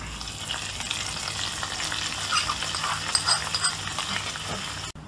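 A hot tempering sizzles as it is poured into Nagercoil-style varutharacha fish curry, a loud, dense crackling hiss close up that runs throughout and ends in a sharp click.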